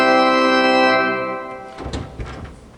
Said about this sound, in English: that was the principal chorus, the diapasons, the principals